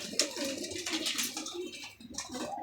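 Pigeons being bred for racing coo softly in their loft, a few low rolling calls in sequence, fairly close and quiet with no talking.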